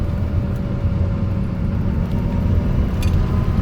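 A high-mileage Porsche 911SC, its original engine past 400,000 miles and running a worn original transmission, drones steadily and low while driving, a continuous close rumble with a faint whine above it and no talk.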